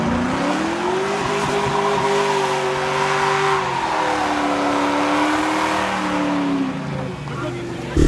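Mustang GT doing a burnout beside a building, a loud rising and falling engine drone with sliding pitch as the exhaust echoes back off the walls, sustained throughout and ending in a sudden louder burst.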